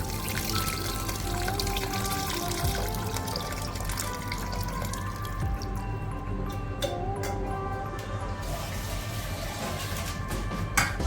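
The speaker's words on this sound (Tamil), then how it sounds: "நம்ம ஒரு லெமன் சைஸு புளியை எடுத்து அதை வந்து நம்ம தண்ணியில் கலக்கி நம்ம ஆட் பண்ணிக்க போகலாம்" Tamarind water, a lemon-sized ball of tamarind mixed into water, poured steadily into a pan of vatha kulambu, a continuous liquid trickle and splash heard close up with kitchen background noise and no talking.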